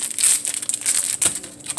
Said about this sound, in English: So we got to break it up, pound it, use a hammer, however you guys want to do it